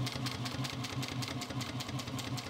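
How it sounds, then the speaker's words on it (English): A Juki 1541S industrial sewing machine runs at a fast, even rhythmic clatter, its motor humming steadily beneath the rapid stitching, close and fairly quiet. "this industrial sewing machine does not make me any straighter of a top stitcher."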